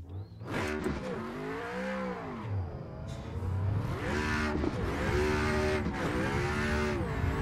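A simulated race car drifts around the Mid-Ohio track on a CAMMUS direct-drive wheel setup, its engine revving and wailing up and down with bursts of tire squeal through continuous slides and transitions.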